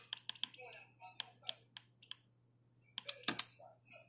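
Small plastic buttons on an Odroid Go Advance handheld are pressed in a quick irregular series of close, crisp clicks. Faint speech sits underneath, and a steady low hum runs throughout.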